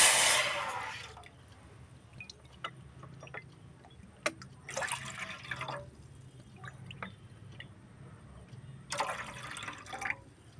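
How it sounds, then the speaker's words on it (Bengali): Water poured from a bowl into a saucepan for cooking semolina, in short bursts of splashing fill with quiet drips and trickles between them. "সসপ্যানে আমি জল অ্যাড করব"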